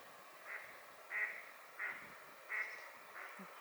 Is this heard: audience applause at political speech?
no